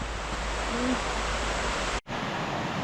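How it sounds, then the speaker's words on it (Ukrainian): A river rushes steadily through a snowy forest, a loud, even broadband roar that runs throughout with one brief dropout near the end. "Річка шумить."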